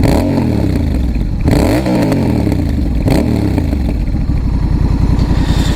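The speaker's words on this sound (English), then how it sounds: "it definitely is loud when you rev it up like that" Honda Rebel 1100 motorcycle fitted with a TBR exhaust, revved hard several times, with each loud rising roar falling back to a rumbling idle. It is close and loud throughout, with no talking.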